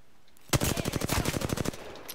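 Rapid bursts of gunfire crackle during a match of the video game Apex Legends while a Kraber sniper rifle is in play, a fast, evenly spaced string of sharp shots running for over a second before stopping abruptly.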